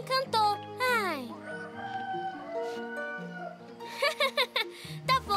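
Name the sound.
cartoon rooster alarm clock crowing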